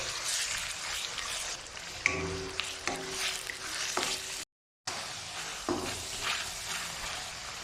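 Beef and gizzard sautéing with garlic and onion in a pan for pansit bihon, a close crackling sizzle broken by scraping stirs and clinks, with one brief dead-silent gap midway.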